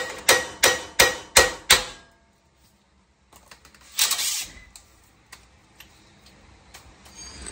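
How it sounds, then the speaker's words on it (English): Five sharp, evenly spaced metallic hammer blows strike a Nissan Titan steering knuckle close up during upper ball joint replacement, followed by quiet and some softer clanks and handling noise. "And then we're gonna hit it with the hammer."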